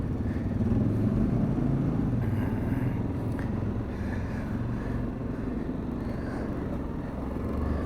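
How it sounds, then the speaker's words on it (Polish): Quad bike with an aftermarket exhaust idling and running on an evening ride, a steady low rumbling engine note with a continuous throaty drone, close and fairly loud, no one talking over it. "O, jakiś wydech chyba mamy. Ładnie chodzi."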